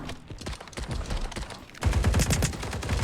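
Rapid video-game gunfire in a Turkish multiplayer match, dense bursts of shots that grow louder and heavier partway through, with no talk.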